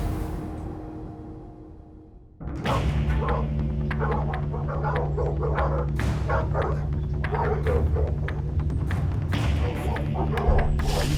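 Dogs bark repeatedly and loudly behind a door during a police search-warrant raid in Grass Valley, California, sharp yips and woofs over a steady low hum, starting abruptly after a quieter lead-in.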